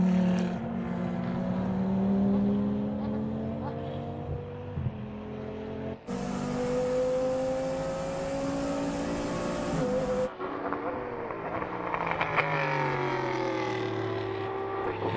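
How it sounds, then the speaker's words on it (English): A Ducan race car engine roars around the Slovakia Ring during an FIA CEZ endurance race, droning and shifting pitch as cars pass, with a sustained hiss in the middle and trackside engine sweeps near the end. "whereas now we hear the roar of the Ducan engine"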